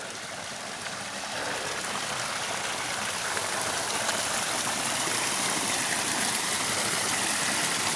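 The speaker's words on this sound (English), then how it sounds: "Waterfall." A small waterfall spilling into a backyard pond gives a steady, close rush of splashing water, broad and unbroken from start to finish with no voices.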